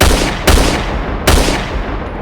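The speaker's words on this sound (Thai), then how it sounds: "เอเวลินก็รออยู่ในรถตอนกลางคืน[[ให้ พี่ยามอะขึ้นไปจัดการยิงแฟนตัวเอง" Two heavy gunshot blasts ring out about a second apart, loud and booming with a long decaying tail, as a sound effect in a crime story narration.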